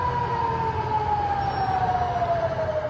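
A distant air raid warning siren in northern Israel during the Israel-Hamas war holds one long, steady wailing tone that slowly falls in pitch over a constant background rumble.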